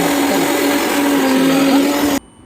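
A mixer grinder whirs at high speed blending green spice paste, with a steady, loud motor whine, then cuts off abruptly near the end, leaving near silence.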